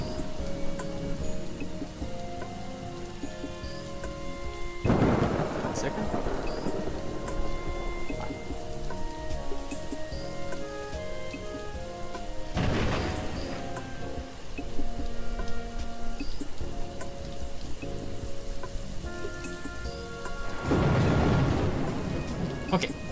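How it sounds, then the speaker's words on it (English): Thunderstorm in the video game Little Goody Two Shoes: a steady wash of rain under music-like tones, with three deep rolling thunder bursts spaced several seconds apart. "Flashing a bit because of the thunderstorm now."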